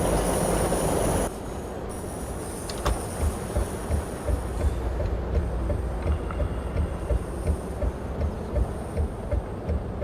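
A train in Euro Truck Simulator 2 rumbles steadily with rhythmic clacking wheels and high metallic squeals, a loud continuous rolling sound with no voices.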